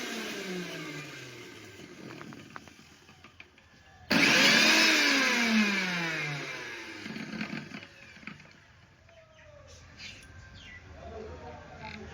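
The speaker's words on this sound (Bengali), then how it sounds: "তার মশলাটা মিক্সারে করে নিচ্ছে" A kitchen mixer grinder whirs loudly for a few seconds, blending spice paste for cooking bottle gourd stems, then winds down into quieter household sounds.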